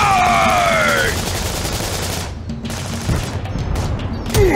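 Gunfire sound effects in a toy cars play scene, rapid bursts of machine-gun fire with a swooping whistle at first, followed by scattered shots and booms, loud and close.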